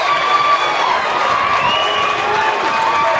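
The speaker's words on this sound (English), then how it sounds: "You can hear that crowd making some noise here" At a high school softball game in Sinton, Texas, a crowd cheers and shouts in a steady, loud roar, with high voices and whistle-like calls riding over the continuous noise.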